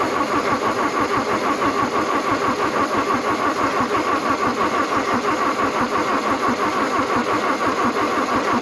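An old, rare Toyota pickup engine cranking and catching, a loud, close, continuous churn of rapid, even pulses that holds steady without pause and with no voices.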